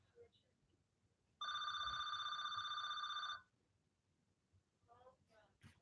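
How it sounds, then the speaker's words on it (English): Telephone ringing indoors, one steady electronic ring lasting about two seconds, bright and fairly close, between stretches of quiet room sound, with someone speaking briefly afterward. "let me wait for the phone to stop ringing"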